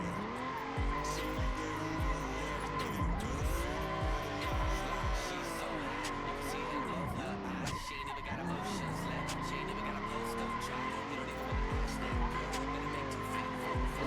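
Tires squeal and skid as a car drifts in the Assetto Corsa racing game, a steady, loud screech with a droning engine, dipping briefly midway, while someone talks throughout.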